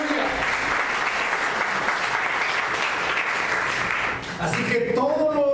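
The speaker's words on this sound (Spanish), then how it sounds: "Denle una ofrenda de palmas a Él." A church congregation gives a long, steady burst of applause, dense clapping filling the room; near the end it thins and a voice rises over it.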